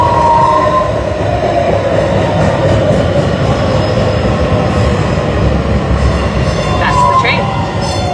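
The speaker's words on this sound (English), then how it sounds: "All right, I'm going to show you the train." A train runs through a station in Croatia with a loud, steady rumble that holds for the whole stretch. Faint wheel squeals rise near the end.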